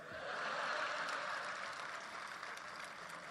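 Sustained applause from an audience at a Hindi comic poetry gathering, a dense wash of clapping that swells early then holds steady, heard from a moderate distance.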